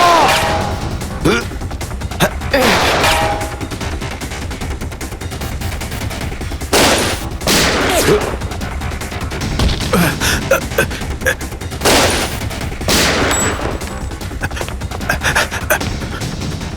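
Bursts of gunfire crack out in short clusters between shouting voices, loud and close amid a noisy, chaotic scene.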